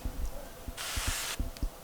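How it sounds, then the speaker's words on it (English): Vegetable oil spray hisses from a can into a mixing bowl before dinner roll dough goes in, one steady burst of about half a second set among light kitchen clatter and taps. "I'm going to put it in the bowl with some vegetable oil spray"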